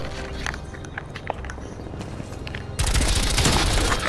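Sustained gunfire from a Call of Duty free-for-all match, busy bursts of shots and a sudden louder, dense barrage in the final second, close and continuous with no voices.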